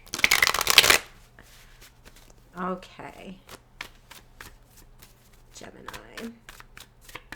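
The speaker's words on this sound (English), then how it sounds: "Let's get a good shuffle of the cards." Tarot cards shuffled close up in one loud riffling burst at the start, then quiet with a steady low hum, broken by scattered soft card taps and a speaking voice.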